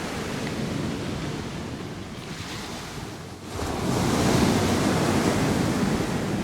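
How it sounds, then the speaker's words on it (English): Ocean waves roaring on the shore beside an old defensive tower near Vancouver, a broad continuous wash of surf and wind that swells louder midway and stays steady, with no voices. "You can hear the ocean roaring in the background."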